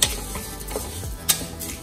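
A spoon stirs rice in ghee in a pot, giving soft scraping and a few light clinks of metal against the rim, close up and alone.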